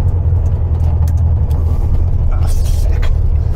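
A 1974 VW Super Beetle with a 1915cc engine drives along, its loud, steady low rumble filling the cabin while faint rattles and a brief higher whoosh rise near the end.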